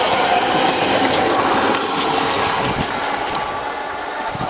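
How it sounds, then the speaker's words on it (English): A TFL Rail class 345 train to London Paddington rolls through Ealing Broadway station with a loud, continuous rumble and faint clickety-clack, the broadband roar easing slightly as it passes. "1759 TFL Rail service to London Paddington from Hayes and Harlington"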